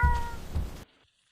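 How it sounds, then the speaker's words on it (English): A cat gives a clear, close meow followed by a shorter second call, then falls quiet. "C for cat."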